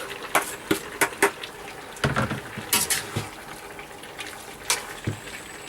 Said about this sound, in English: Put the veg back in with the pork.